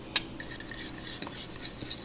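A utensil tosses mixed salad in a bowl after olive oil goes in. There is a sharp clink at the start, then soft, close, wet stirring and light scraping with a few small taps, and no talking.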